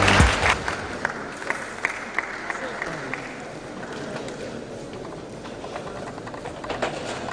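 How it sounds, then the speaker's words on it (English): A tech conference crowd at Devfest Owerri applauds David as he steps forward, a steady wash of clapping with a few sharper claps standing out. "A round of applause for David as he steps forward."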